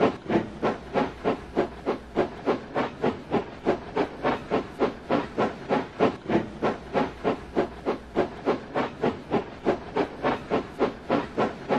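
A steam locomotive chuffs in a steady, even rhythm, each hissing puff repeating rapidly and evenly for the whole stretch.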